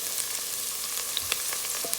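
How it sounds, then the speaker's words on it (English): Garlic and pepper fry in a pan with a dense, even sizzle and occasional small pops, close and steady, with no talking. "So garlic and pepper is going in."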